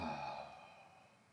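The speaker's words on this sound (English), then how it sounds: "It's okay to hear the breath." A single long, soft exhalation during a yoga-style stretch in an indoor jian drill class, breathy and fading away over about a second.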